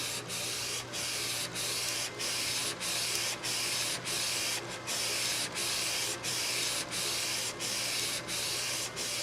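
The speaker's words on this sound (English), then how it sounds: "After hitting the print command on your computer, the garment is going to start to print." A Viper DTG printer printing on a white shirt with its cover open, a steady mechanical whir and spray with regular brief dips as the print head sweeps back and forth.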